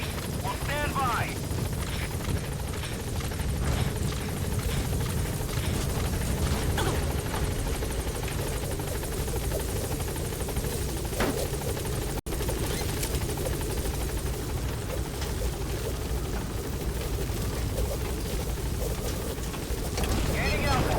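A helicopter hovers and arrives at a landing zone in the video game Metal Gear Solid V: The Phantom Pain, with a continuous heavy rotor drone and wind rush filling the whole stretch while radio voices speak over it.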